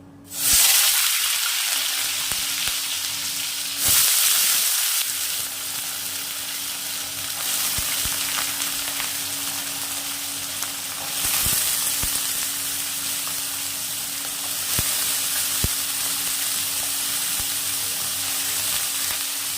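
Cut potatoes, carrots and peas hit hot oil with a loud hissing burst, then keep up a steady, close sizzle with occasional stirring scrapes, no voices over it.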